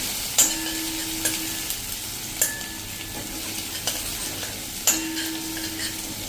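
Spice paste for a Ratlami sev curry frying in a pan over a medium gas flame, with a steady sizzle under repeated sharp scrapes and clinks of a spoon stirring against the pan.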